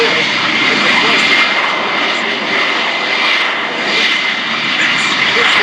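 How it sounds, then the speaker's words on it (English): An F-35B Lightning II hovers at an air show, its lift fan driven by a Pratt & Whitney F135 engine giving a loud, steady roaring whine that swells slightly and runs on without break. "the lift fan, which is being powered by that F-135 engine from Pratt & Whitney"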